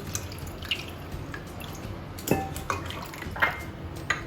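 Rice for Hyderabadi biryani is rinsed and drained in a pot. Close, scattered drips and splashes sound against the metal, mixed with light clinks of the vessel, and no one speaks.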